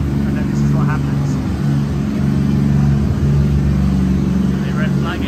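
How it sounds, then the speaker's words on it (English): A police car engine drones loudly and steadily at a race track, with a continuous mechanical roar and faint voices in the background. "Police car's arriving. It's louder than the other engines."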